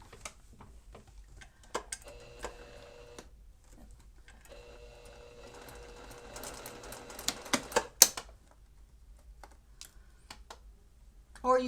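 A sewing machine edge-stitches a rice-filled hand warmer, running in short mechanical bursts of rapid needle clatter with pauses between, plus a few louder clicks and knocks, close and fairly quiet.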